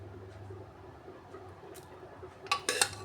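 Boiled soybeans and kidney beans being moved into a bowl, faint scraping at first, then a cluster of clinks and clatters of utensil against dish near the end.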